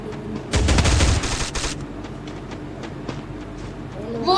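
Gunfire in a battle royale video game: a dense, loud burst of rapid automatic shots for about a second, then scattered fainter shots and game noise.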